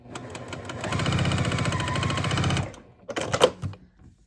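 Home sewing machine stitching orange and background fabric quilt block pieces together, a steady mechanical whir running close and loud for about two seconds before stopping, followed by a few short clicks and handling taps.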